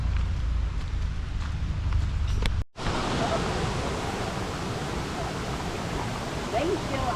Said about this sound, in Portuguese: a famosa Cachoeira Véu da Noiva